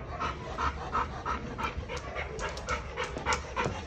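A dog pants steadily and close by in quick, rhythmic breaths that run without a break and stand alone with no talk over them.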